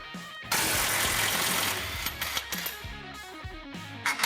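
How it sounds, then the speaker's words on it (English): An 18mm socket wrench working A-arm bolts on a Polaris RZR Pro XP, a sustained metallic ratcheting whir followed by scattered clicks and clinks of hardware, close up with no talk. "We're going to grab an 18mm socket and an 18mm wrench. We're just going to go through and start removing all the hardware"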